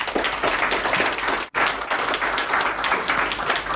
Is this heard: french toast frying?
no